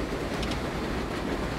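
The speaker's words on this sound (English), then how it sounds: "look at that, there's another train" A local subway train passes in the New York subway simulation game World of Subways, giving a steady, close rumbling roar with faint rail clatter that holds unchanged throughout, with no voices.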